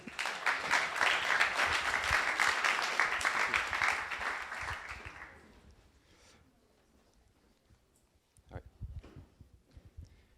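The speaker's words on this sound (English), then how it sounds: "you will have to raise your hand and to applaud and to encourage them" A startup pitch event audience applauds a presenter, dense loud clapping for about five seconds that fades out, followed by quiet and a few scattered sounds.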